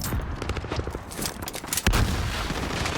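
Rapid pistol shots ring out in an esports video game match, a dense series of sharp cracks with one louder blast near the end, close and punchy over game noise.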